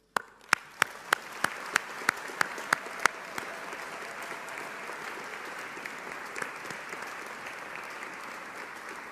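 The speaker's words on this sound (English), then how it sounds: "let us take a moment to acknowledge and applaud them for the support they have given you" An audience at a Mechanical and Aerospace Engineering graduation ceremony applauds the graduates' families and supporters. About nine sharp, evenly spaced claps ring out first, then a softer, scattered crowd applause carries on to the end.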